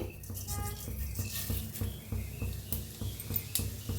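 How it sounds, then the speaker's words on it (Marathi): Mustard seeds and cumin crackle in hot oil in a kadhai, a dense run of rapid close pops and ticks with some faint tonal background sounds. "मोहरी जिरं चांगलं तडतडा लागले"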